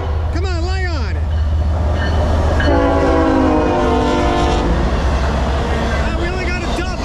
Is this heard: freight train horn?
yes